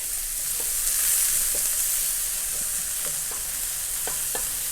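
Chopped pork shoulder frying in a pan over medium-high heat, a steady loud sizzle throughout with occasional scraping stirs, close up and without talk.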